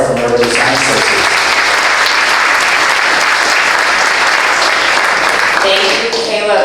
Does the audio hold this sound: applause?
yes